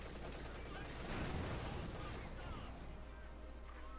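Machine gun fire in Company of Heroes 2, a quiet crackling burst of rapid shots blended into a dense battlefield din with low rumbling underneath.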